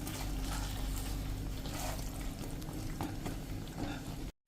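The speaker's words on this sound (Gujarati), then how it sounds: "આ રીતે આપણે 1 મિનિટ સોયા ચંક્સ નાખ્યા પછી મિક્સ કરી લેશું" Soya chunks for a soya chilli Manchurian starter being stirred in a hot pan, giving a steady, loud sizzle with scraping stir strokes throughout, cutting off abruptly at the end.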